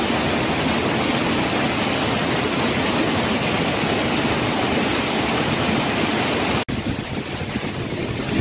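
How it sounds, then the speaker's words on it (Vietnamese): Water plunges from a very high rock cliff at Nà Đoong falls, a loud, steady, broadband roar that continues unbroken apart from one brief dip near the end. "Thác nước được chảy từ vách núi đá rất là cao,"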